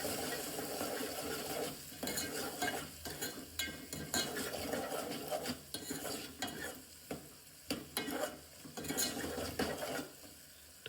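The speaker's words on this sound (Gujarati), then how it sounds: "તો મિત્રો સારી રીતે પહેલાં મિક્સ કરી દઈશું આપણે" Papdi beans cooked with garam masala, turmeric and salt are stirred in a pan in a village-style kitchen, with repeated scraping of a spoon against metal over a soft sizzle, in uneven close-up strokes.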